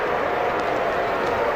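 A cricket crowd roars steadily after back-to-back sixes in a domestic New South Wales match, a dense wash of cheering and clapping carried by distant stadium ambience, with no voices rising above it.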